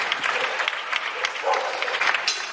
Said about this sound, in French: les habitants de la capitale italienne ont applaudi au même moment pour remercier et honorer les médecins, infirmières et autres professionnels de la santé